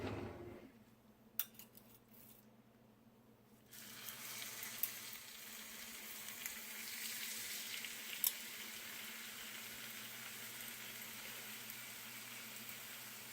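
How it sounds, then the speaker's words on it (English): Pork chops sear in a hot pan, a soft hiss at first that turns into a steady, fuller sizzle after a few seconds, with a few sharp clicks of utensils and no talking. "I'm going to sear the pork chops. I'm just going to do this by placing them in a hot pan for 3 to 4 minutes on each side."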